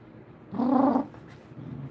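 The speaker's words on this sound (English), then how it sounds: "He's never growled at me before." A pet dog gives one short, low growl of about half a second. It is close and moderately loud, followed by a faint rumble, and no one speaks.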